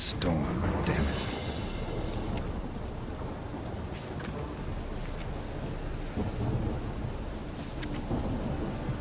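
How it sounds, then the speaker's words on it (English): A thunderstorm in The Witcher 3 brings a sharp thunder crack at the start, then a steady wash of heavy rain and low rumbling. Muffled game voices sound faintly underneath. "A storm, damn it."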